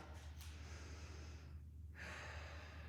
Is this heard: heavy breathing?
yes